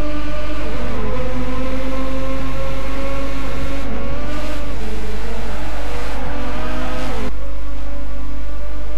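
Race cars running side by side at Fuji GT in a BTCC sim racing game, loud close engine notes rising and falling through gear changes, with layered overlapping motors and no talk.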